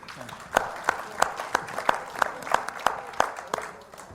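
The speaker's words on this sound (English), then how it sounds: "Give Professor Lyrical a round of applause" A small audience gives a performer, Professor Lyrical, a round of applause at an MLK activism event, with sparse, separate claps landing in a steady rhythm over a murmuring room.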